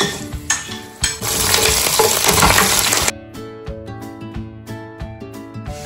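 Chicken frying in a pan with curry leaves and green chillies added, a loud burst of sizzling for about three seconds that settles into a steadier, quieter crackle with faint stirring clinks.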